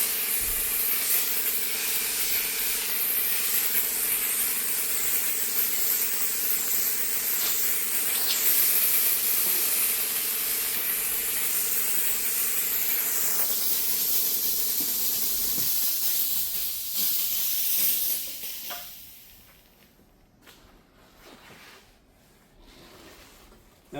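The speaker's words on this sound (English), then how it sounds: "So I'm steaming it, then I'm wiping it." Steam cleaner hissing continuously against a stone countertop, a loud, steady spray sound that carries on for about fifteen seconds before tapering off into quiet.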